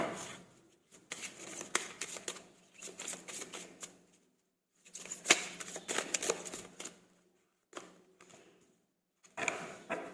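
Tarot cards are drawn and shuffled from a deck, giving soft, close papery riffling in several short bursts separated by brief silences.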